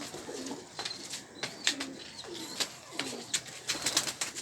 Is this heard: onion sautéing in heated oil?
no